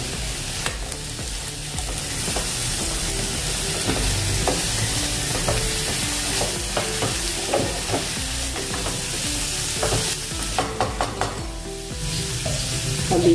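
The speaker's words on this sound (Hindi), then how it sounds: "अभी इसमें डालें पुदीना बारीक कटा हुआ, इसको भी मिक्स कर लेंगे।" Chopped mint being mixed into pulav frying in a single pot, a continuous loud sizzle with irregular scraping and clinking of the spoon, busier toward the end.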